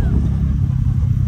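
A motorbike engine rumbles steadily while riding, a loud, low, continuous drone mixed with wind buffeting.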